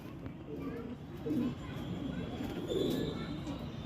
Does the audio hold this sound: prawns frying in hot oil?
no